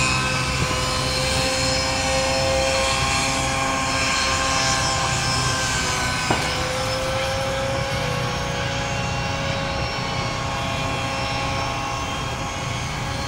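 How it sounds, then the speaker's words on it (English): A palm-sized Xieda four-channel RC helicopter hovers and flies nearby with a steady, continuous high-pitched motor and rotor whine and a buzzing hum, unbroken for the whole stretch and with no voices. "Wow, that is really smooth for such a small helicopter."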